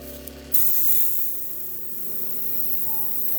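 An airbrush spraying Tamiya Flat Yellow acrylic at 28 psi onto a Warhammer Assault Intercessor miniature with a jump pack, a steady close hiss of air that starts abruptly and continues alone.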